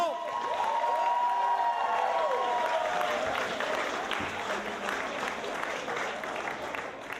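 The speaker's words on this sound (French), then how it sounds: "Mesdames et messieurs, on applaudit encore plus fort pour David Horizon." An audience applauding and cheering, a dense wash of clapping with whoops and shouts, loud at first and easing slightly toward the end.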